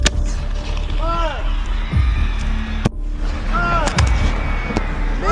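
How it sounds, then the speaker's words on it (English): Hand-lit coconut shell fireworks at a Fourth of July show in Moraga launch a few feet from the crew, with two or three sharp, loud mortar booms and whistling rises amid crowd noise and talking. "With the fireworks being set by hand and the shells blasting up only a few feet from the crew"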